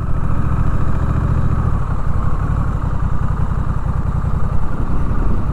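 A motorcycle engine idles close by in a low, steady, throbbing rumble that shifts into a quicker pulsing patter partway through, with no talk over it.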